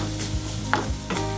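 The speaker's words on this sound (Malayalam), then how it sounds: "ഇത് നന്നായിട്ടൊന്ന് വഴറ്റി കൊടുക്കാം." Chopped capsicum and cabbage are stirred and sautéed in a pan for oats soup, with soft sizzling and a few scraping strokes of a spoon, close and clear, no talk.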